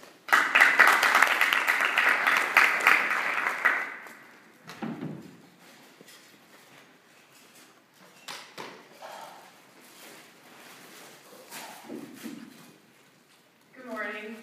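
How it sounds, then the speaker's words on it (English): Audience applause for a second-year medical student presenter at a research talk, a loud dense burst of clapping for about four seconds that dies away, followed by quieter scattered sounds and a few voices. "So please give Caroline a round of applause."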